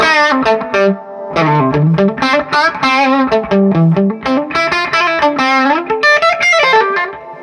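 Electric guitar played through a dirty Supro 24 clone amp with reverb, a melodic run of distorted single notes and bends with a lush, washy tail; loud and close, no talking.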